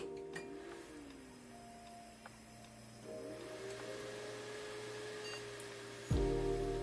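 A Dell computer powers on and boots to BIOS: a fan hum with gliding electronic tones and small clicks and ticks, then a louder whoosh of spinning fans near the end.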